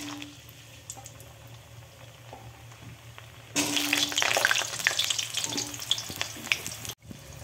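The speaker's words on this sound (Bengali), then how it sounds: "এবার আমি এর মধ্যে দিয়ে দিচ্ছি আলু।" Potato pieces drop into hot oil already sizzling with whole cumin tempering, for a Bengali mochar dhoka; a quiet crackle swells into loud, dense frying about halfway through, with a brief dip near the end.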